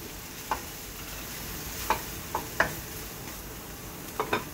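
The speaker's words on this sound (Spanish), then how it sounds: "Aquí tenemos el brócoli ya lavado, partido en pedacitos. Y lo voy a agregar aquí en el chorizo." Washed, chopped broccoli pieces go into chorizo frying in a pan, giving a faint steady sizzle broken by a few sharp clatters and stirring knocks, with no talking.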